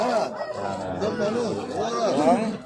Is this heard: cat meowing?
no